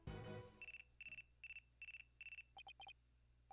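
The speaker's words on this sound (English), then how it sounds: "Looks like I have a phone call." A phone rings in the Ace Attorney Dual Destinies video game: a loud electronic ringtone with a steady series of repeated short bursts, then a few quicker chirps, following a brief noisy opening.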